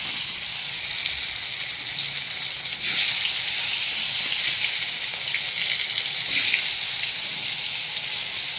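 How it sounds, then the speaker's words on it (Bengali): Salted, turmeric-coated halved pointed gourd (potol) frying in hot oil: a continuous loud crackling sizzle with brief surges, close up and without talk. "একটা একটা করে পটল আমি ভেজে নিচ্ছি।"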